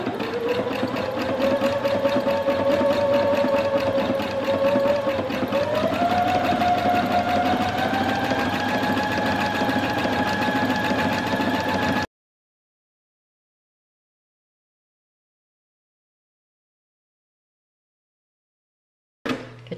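A sewing machine stitches back and forth on fabric in a continuous mechanical whirr for about twelve seconds, shifting pitch slightly partway through, then stops into silence.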